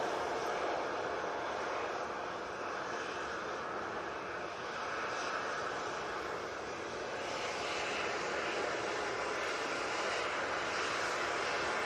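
An Aer Lingus airliner arriving from Dublin passes overhead, its engine roar broad and steady across the whole stretch, swelling slightly in places and never fading out, with no voices present.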